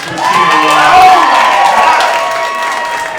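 A theater audience at a live comedy show cheers and calls out loudly in a dense crowd roar, with mixed voices and some clapping that swell and then ease slightly.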